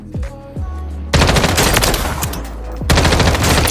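Loud, close automatic gunfire from a meta weapon in Warzone 3, a couple of single shots followed by two long sustained bursts that fill the clip with no talking.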